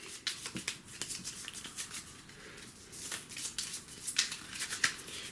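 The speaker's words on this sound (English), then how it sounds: "So now we have this whole deck of cards, including the 2 new ones we bought, that we're going to go ahead and shuffle up." A deck of Marvel Legendary game cards is shuffled by hand at a tabletop, close crisp riffles and flicks in repeated quick bursts with brief pauses between them.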